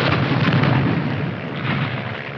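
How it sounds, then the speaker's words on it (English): Sustained rumbling artillery bombardment in a 1951 war film battle scene, a continuous loud low roar of overlapping explosions with no distinct individual blasts and no speech. "Piper Cup's calling the shots for artillery."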